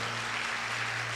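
A church congregation claps hands steadily during a Portuguese-language sermon, a dense even wash of applause running throughout the short stretch with a low hum beneath.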